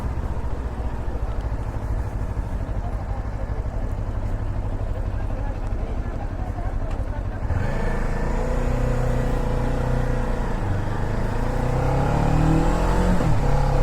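A Kawasaki Ninja 400 motorcycle runs through its stock exhaust, a loud, steady engine drone that shifts partway through and then climbs in pitch as the engine revs up.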